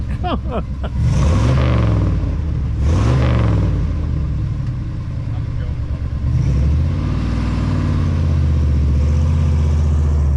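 A 1966 Ford Fairlane Z-code 390 FE V8 with a 4-speed revs hard as the clutch is dropped. The engine rumbles loud and close, with repeated rising bursts, while people talk over it.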